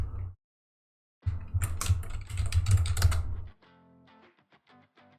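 Typing on a computer keyboard while logging into a Check Point gateway over SSH, a dense burst of clattering keystrokes for about two seconds, then a few lighter scattered taps.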